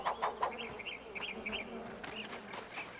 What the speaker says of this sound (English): I do wonder why the hell there's flies buzzing around